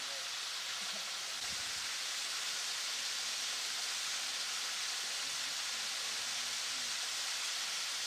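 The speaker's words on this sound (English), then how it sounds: "There's a waterfall." A waterfall along a West Virginia trail gives a constant hissing rush of water, with a brief faint voice or low sound in the middle under the steady roar.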